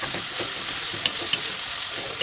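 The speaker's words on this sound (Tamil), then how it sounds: "இப்போ இந்த தக்காளி வதங்கிறதுக்காக உப்பு, மஞ்சள் தூள் ஆட் பண்ணி நல்லா வதக்கணும்." Chopped tomatoes sauté in a hot pan with salt and turmeric for a horsegram rasam, giving a steady close sizzle with soft scraping taps from stirring.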